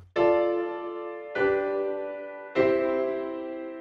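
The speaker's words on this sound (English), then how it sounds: "let's take a standard harmonic progression, say minor second perfect fifth first, which would sound like this in C" Three sustained piano chords in C, a minor second then perfect fifth then first progression, struck one after another, each ringing out and slowly decaying before the next, clear and close with no talking.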